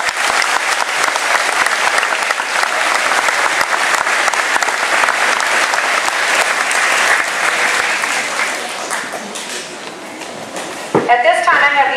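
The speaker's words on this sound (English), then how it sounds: "Let's please give them one more round of applause." Loud, sustained applause fills a graduation ceremony hall for an eighth-grade class, a dense wash of clapping that fades slightly near the end as a voice begins speaking.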